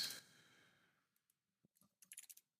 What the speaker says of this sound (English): Why am I typing that?